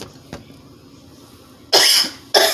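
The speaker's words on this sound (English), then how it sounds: "I'm coughing, I drink a lot of cold stuff." Two harsh, loud coughs close to the mic, one long and one short, after a quiet stretch with a faint tap.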